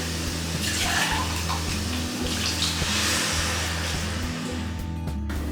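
A cup of water pours into a soup pot already holding diced tomatoes for taco soup, a steady splashing rush running the full few seconds under a low hum, close and moderately loud, with no talk.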